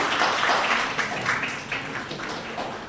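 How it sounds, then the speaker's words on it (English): Audience applause in a classroom-style session, a continuous wash of clapping hands held at steady volume and tapering slightly toward the end. "give a huge applause to Angela Miss."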